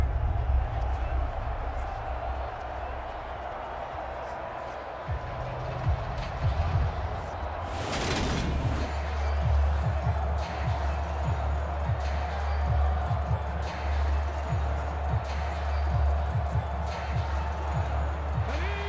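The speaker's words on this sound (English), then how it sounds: "the crowd getting into it as we come up on a big third down" A stadium crowd roars during a Madden 23 football game between the Eagles and Cowboys, a broad sustained swell that rises after a loud burst midway, under steady commentary.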